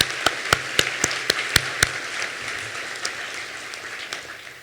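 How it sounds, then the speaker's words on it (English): Scattered applause at a community college commencement ceremony: several loud, distinct claps from a few nearby hands in a quick run, then softer distant clapping that tapers off. "Let's have a round of applause for these."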